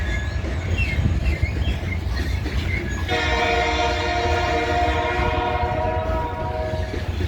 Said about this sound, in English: Sometimes the horns are like really loud.